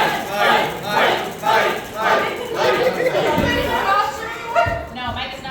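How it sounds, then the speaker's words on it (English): A convention audience at Ramencon 2024 cheers and yells in repeated loud surges of many voices, close and rowdy, with a few barking-like whoops mixed in. "Cheer for the person you want to go next."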